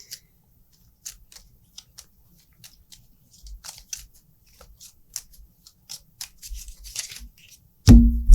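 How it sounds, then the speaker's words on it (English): A deck of cards shuffled by hand for the solo board game Friday, a scattered run of soft flicks, riffles and light clicks, quiet and close, ending in a brief louder rustle. "shuffle our deck."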